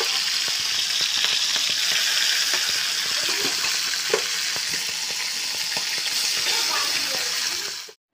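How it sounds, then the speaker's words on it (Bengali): Prawns fry in a hot pan in a home kitchen, giving a close, loud, unbroken sizzling hiss with small pops and spatters, cutting off abruptly at the very end. "তো চিংড়ি মাছগুলো ভাজা বসিয়ে দিলাম।"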